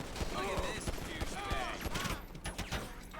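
Gunfire in GTA 5 during a police patrol shootout, a rapid burst of shots and sharp cracks over game noise, with people talking throughout.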